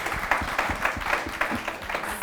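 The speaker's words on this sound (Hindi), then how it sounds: "एक बार इस बात पर भी तालियां हो" Applause from a debate audience during a Hindi women-versus-men debate show, a steady patter of clapping sustained over a couple of seconds at moderate level, with no voices over it.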